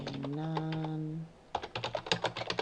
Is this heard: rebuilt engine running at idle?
no